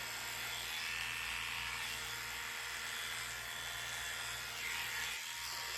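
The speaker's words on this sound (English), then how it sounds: "I'm just going to clipper right off his nose" Electric clippers trimming the fur off a dog's nose and face, a steady close buzzing hum that runs unbroken throughout, with slight shifts in tone as the blades move against the grain.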